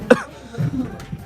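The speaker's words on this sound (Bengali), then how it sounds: "আমার পুরো কাশি হয়ে গেছে" A person gives one sharp, loud cough near the start, then the clip settles into faint, low murmuring and background noise.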